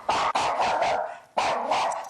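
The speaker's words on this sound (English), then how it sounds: "The dog's barking all the time." A dog barks loudly and repeatedly up close, a rapid run of harsh barks followed by a brief pause and more barking.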